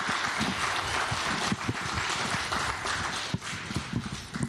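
An audience at a folklore and fangs mini symposium applauds its speakers with a dense, fairly distant round of clapping that carries on steadily for several seconds, with no voices over it.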